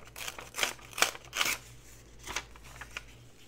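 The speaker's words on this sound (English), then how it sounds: "So I'm going to tear this on off a little bit more. And then we'll tear this." A paper napkin is torn by hand in a few quick, close rips with soft crinkling, three sharp tears spaced about half a second apart followed by lighter rustling.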